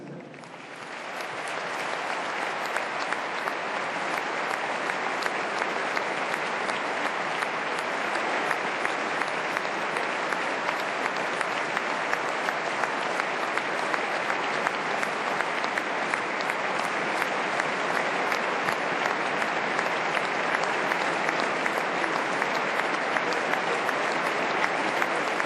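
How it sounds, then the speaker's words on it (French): A rugby stadium crowd at a Racing versus Bordeaux Top 14 match gives a minute of applause in tribute, the clapping swelling in over the first seconds and then holding as a broad, even, distant roar. "J'aimerais que vous lui rendiez hommage par une minute d'applaudissements."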